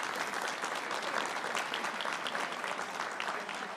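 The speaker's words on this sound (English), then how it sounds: "Let's give them another round of applause." Continuous applause from an audience at a ceremonial bill signing for Boston liquor licenses hosted by Governor Healey, a dense, even patter of many hands, soft and somewhat distant.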